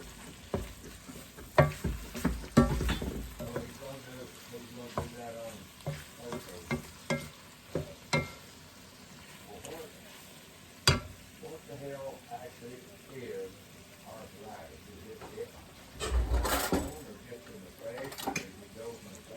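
Apples frying in a pan for Southern fried apples, stirred with soft scrapes and clicks over a steady sizzle, a louder burst of stirring near the end; no talking heard.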